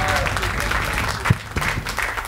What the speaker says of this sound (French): Julien, mesdames et messieurs, on peut l'applaudir.